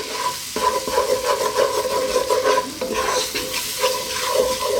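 Flour cooks in butter and lamb juices for a red-wine lamb braise, stirred steadily, giving a close, continuous sizzle broken by repeated scraping strokes of a spoon across the pan.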